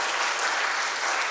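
A church congregation gives a dense, continuous burst of applause to welcome a member standing up during a service, loud, close and full, with no voices over it.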